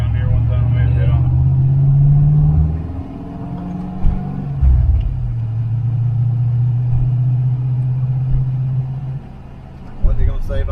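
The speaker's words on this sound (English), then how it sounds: "this car makes a lot of noise, nor a lot of power" A loud car engine rumbles up close with a steady drone, and its pitch shifts as the revs rise and fall.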